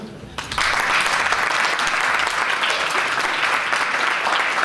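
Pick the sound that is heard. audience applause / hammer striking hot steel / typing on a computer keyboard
audience applause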